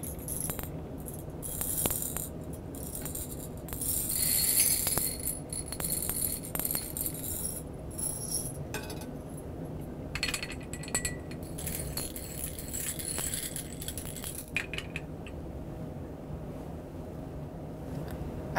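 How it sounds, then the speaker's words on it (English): Glass beads poured into a Hempel distillation column in a chemistry lab, a steady stream of bright clinking and jangling rattles lasting the whole time, loudest early on and then thinning, with no talking. "Fill it 2/3 full with glass beads."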